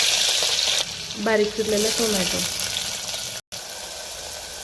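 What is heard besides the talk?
cumin and mustard seeds sizzling in hot oil in clay pot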